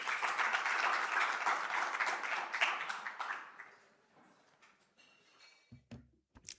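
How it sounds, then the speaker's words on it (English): Audience applause at a housing research seminar, a crowd clapping briskly for about three seconds before thinning out into a few scattered claps and fading, followed by brief low room noises. "Ladies and gentlemen, a round of applause before we start."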